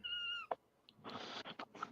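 A small cat gives a clear, high, drawn-out meow, followed by a few short, close-by scuffling and rustling sounds.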